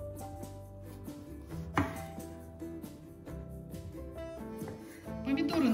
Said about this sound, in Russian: Помидоры нарезаем, как принято в салате